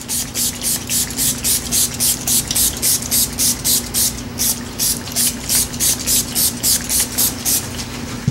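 A spray bottle pumped in a quick steady rhythm over soap, about twenty short hissing sprays in a row, close and loud over a low hum.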